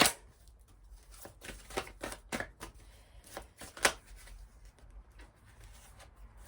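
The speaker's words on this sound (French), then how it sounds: "on va prendre quelques cartes du cœur magique" Tarot-style cards are shuffled and drawn close by, giving soft, irregular flicks and riffles with a few sharper snaps against a quiet room background.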